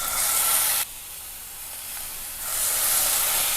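Fish fries in hot oil in a pan, giving a loud steady sizzle that drops away sharply for a moment, probably as the fish is turned, then rises again to a full hiss, with no voices.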